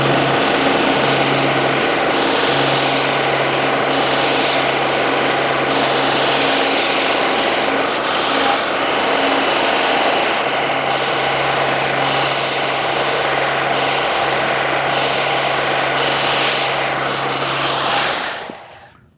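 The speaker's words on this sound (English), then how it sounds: "I'm going to finish off these curves on the horizontal belt sander to make them look nice." Horizontal belt sander smoothing curved wooden edges, a steady, loud motor whine with a continuous broadband sanding hiss and faint fluctuations as the wood is pressed, running throughout before cutting off at the end.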